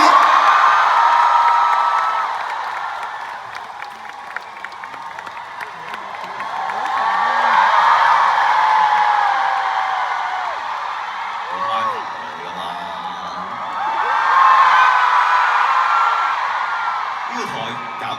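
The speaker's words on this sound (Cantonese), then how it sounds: "俾啲掌聲自己！" Large concert crowd at a record-breaking arena stage show cheers, whoops and applauds continuously, swelling loud in waves with yells rising above the sustained roar.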